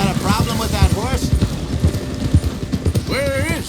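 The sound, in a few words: horse hooves in Red Dead Redemption 2 video game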